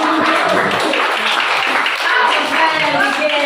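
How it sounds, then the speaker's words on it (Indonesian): A classroom of high school students claps for a classmate, a close, busy patter of hands that holds steady throughout, with voices mixed in underneath. "Tadi tepuk tangan untuk Marcel."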